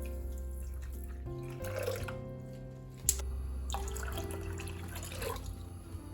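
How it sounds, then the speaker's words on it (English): Two cups of water are poured onto sugar in a bowl to make syrup, a soft, quiet trickle and light splashing that runs on for several seconds. "Now I'm going to be putting 2 cups of water."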